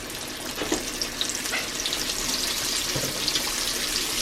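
Food sizzles steadily in hot frying oil in a cast iron pan while fried chicken and bannock are cooked, with a broad continuous crackle and a few louder pops and spits, close and alone without talk.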